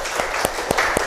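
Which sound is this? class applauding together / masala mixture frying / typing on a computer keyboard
class applauding together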